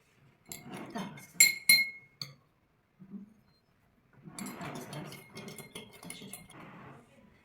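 A spoon stirs sugar into water in a glass. Sharp clinks ring against the glass, then fainter swirling and scraping follows after a brief pause, all close and fairly quiet.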